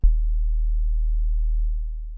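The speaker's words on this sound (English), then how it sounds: "Let me bring in the sine wave." A pure sine wave synth tone from a Kontakt instrument, a single low steady hum starting abruptly and holding for about two seconds before fading slightly, alone.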